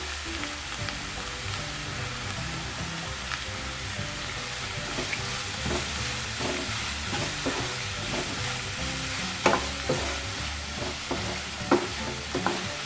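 Sliced onions with salt sizzle and fry in a pan while a spoon stirs them, a constant close crackling hiss with soft scraping and a few louder clinks near the end, no talking.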